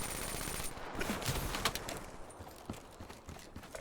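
Rapid gunfire bursts from an online shooter video game, a steady crackle of overlapping shots with sharper isolated cracks standing out over a constant background of game noise.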